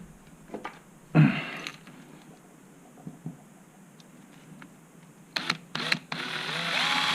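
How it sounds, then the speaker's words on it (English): A power drill whirs in short bursts while drilling a 4mm hole, then spins up and runs steadily at the end, with small handling clicks in between. "Really easy to drill out. Say that's a 4mm hole."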